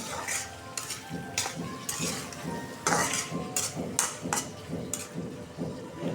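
A large potato sautéing and being stirred in a hot pan, steady sizzling under repeated scraping and clattering strokes of a utensil against the metal, close and fairly loud throughout.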